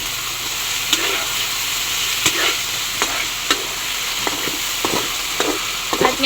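Chicken liver and gizzard adobo stirred in a sizzling pan, steady frying hiss broken by periodic scraping clacks of a utensil against the pan, close and fairly loud.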